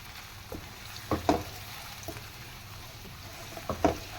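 Chicken with whole black pepper and cloves frying in a karahi, a low steady sizzle broken by a few sharp bursts and spatters, close and moderately loud.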